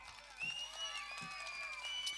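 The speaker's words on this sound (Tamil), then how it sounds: "ஒரு கைதட்டு கொடுக்கலாம்." Audience applause and cheering at an outdoor Tamil village drama performance of the Sri Valli wedding play near Paramakudi, a steady wash of clapping and crowd noise from a distance, moderately faint.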